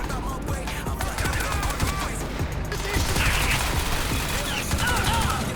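Rapid gunfire from the video game Crysis 3 Remastered, dense bursts of shots crackling continuously under a busy game mix that grows louder partway through.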